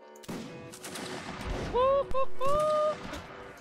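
A musket volley fires on command in a multiplayer line-battle video game, a dense crackle of shots over shouted orders and game sounds, with voices heard alongside.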